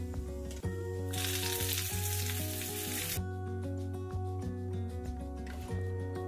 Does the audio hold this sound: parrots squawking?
no